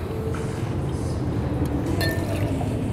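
About two ounces of rye whiskey poured into a mixing glass for an old fashioned cocktail, a short, close liquid pour with a few light glass clinks.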